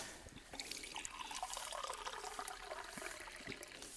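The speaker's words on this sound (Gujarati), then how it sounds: "ભરી દો મને ગ્લાસ" Water pours into a glass at an old shrine in the scrubland near Dhrangadhra, a faint continuous trickling splash heard close by for a few seconds with no talk.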